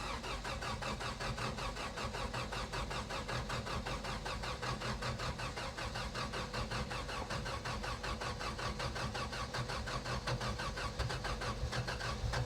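A Toyota Corolla engine cold-starts and settles into a steady idle, running continuously and close up with no talking over it.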